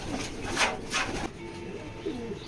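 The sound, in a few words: male pigeon cooing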